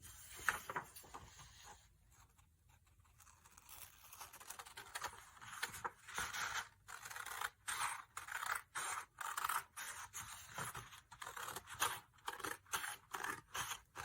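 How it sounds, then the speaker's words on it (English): Scissors cut through black paper along a folded crease, a steady run of close, crisp snipping strokes that quicken into a regular rhythm after a short pause, with no talking. "I'm actually going to cut along that line."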